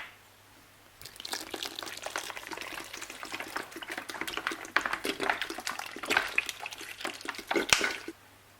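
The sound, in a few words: water poured onto plantain in a pot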